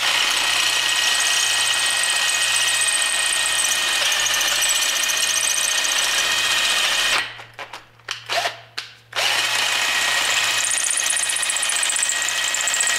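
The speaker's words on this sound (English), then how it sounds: "So you guys can sit on the tripod and I'm gonna drill a hole." A power drill with a 7/16 bit bores through metal on a long-travel suspension build, a loud continuous grinding whine with a brief stuttering break midway as the trigger is feathered, then steady drilling resumes.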